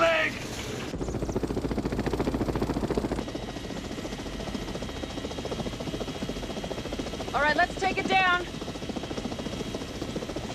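Rotor chop and engine drone of a news helicopter, steady throughout, with someone speaking over it and brief radio-like chirps near the end.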